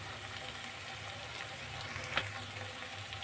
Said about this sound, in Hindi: हम मसालों को अच्छी तरीके से पहले भून लेंगे।